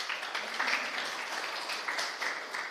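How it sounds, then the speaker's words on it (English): Audience applause at a conference talk on concurrent Elixir scheduling, a brief, moderately faint spatter of clapping from a modest crowd with no voices on top. "it's good that you applaud before"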